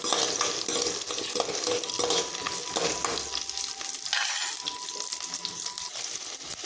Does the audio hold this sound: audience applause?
no